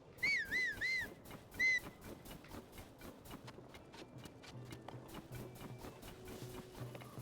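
Horse hooves clip-clop in Zelda: Tears of the Kingdom, a soft steady patter of game footfalls that opens with a few bright whistle-like chirps over a low ambient hum.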